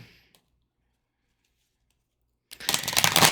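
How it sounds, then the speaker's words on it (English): A deck of cards is shuffled up close: a faint rustle at the start, near silence, then a quick, crisp burst of riffling in the last second. "While I shuffle"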